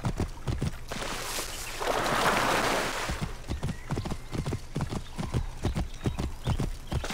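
Horse hooves clip-clop at a steady walking rhythm in the video game Assassin's Creed Origins, close and fairly loud, with a brief rush of noise partway through and no talking.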